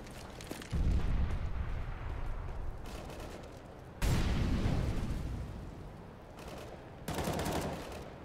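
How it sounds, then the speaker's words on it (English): A flashbang grenade in a video game, heard as several loud, sudden blasts with booming low-end tails, spaced a few seconds apart, set among quieter game ambience with no talking. "Throwing a flashbang."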